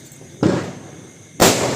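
Two loud Diwali firecrackers burst in quick succession during a festival celebration, each a sharp blast followed by a lingering rumble, with no talk over them.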